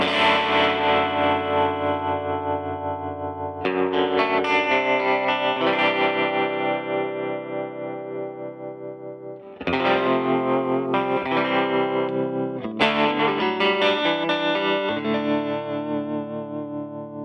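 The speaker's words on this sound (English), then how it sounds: "let's add some modulation here. Modulation, old very sweet tremolo" Electric guitar chords through an Antelope Audio Zen Go interface with a pulsing tremolo effect, the volume wavering rhythmically as each strummed chord rings out, loud and alone.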